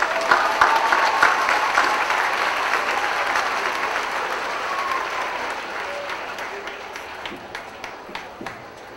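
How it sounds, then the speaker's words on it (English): Steady applause from a large crowd at a 2003 USC commencement ceremony, dense clapping sustained throughout with a slight fade toward the end. "Let's have a round of applause for our Master Plan Development students."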